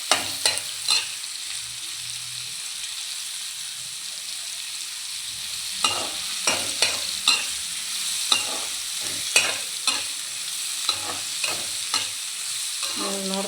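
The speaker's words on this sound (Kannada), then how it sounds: "ಸೊ ಮಶ್ರೂಮ್ ಹಾಕಾದ್ಮೇಲೆ ಮಶ್ರೂಮ್ ಒಂದು 2 ಮಿನಿಟ್ಸು ಫ್ರೈ ಮಾಡಬೇಕು ಕ್ಲೀನಾಗಿ" Mushrooms frying in a pan and stirred with a utensil: a steady low sizzle broken by sharp, irregular scrapes and clinks, clustered more densely in the second half, close and alone with no voices.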